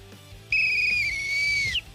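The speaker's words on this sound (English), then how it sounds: "So that's the weak whistle?" A single whistle blown weakly makes one sustained, thin tone lasting just over a second, close and alone against faint background noise.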